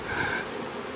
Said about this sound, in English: there's thousands of bees in this box